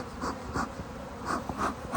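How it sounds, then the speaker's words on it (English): Several honeybees buzz past at close range around a beehive, their drones swelling and fading in brief passes over a quiet outdoor background. "all these bees flying around"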